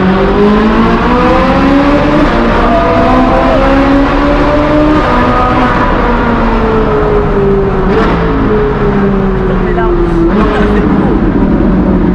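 A loud, roaring Ferrari sports car engine revs and rises in pitch, with a continuous high-powered drone and some faint crowd or background noise.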